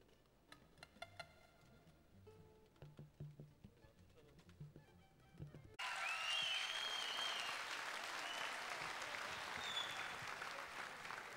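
Studio audience applause breaks out abruptly at a televised Turkish singing competition results show, a dense, loud wash of clapping that follows a stretch of scattered studio noises and continues steadily to the end.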